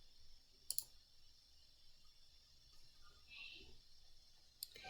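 A couple of sharp computer mouse clicks near the start and another near the end, quiet and close, over faint room hiss while opening a school sign-on app.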